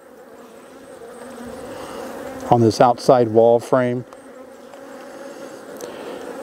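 Honey bees buzz at a hive opened for an inspection ahead of winter, a steady close hum with a brief burst of louder, rising drones near the middle while a person speaks softly over it.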